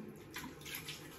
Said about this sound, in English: I'm gonna put some hot water on my face